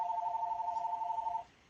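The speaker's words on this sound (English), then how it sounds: "We'll answer our phone call here." A telephone rings with an incoming call in a workshop during a Sony 55-inch XBR55X850C LED TV backlight repair, a steady electronic ring tone sounding continuously at moderate loudness, then cutting off abruptly, with no talking.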